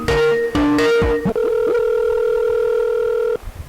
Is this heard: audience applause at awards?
no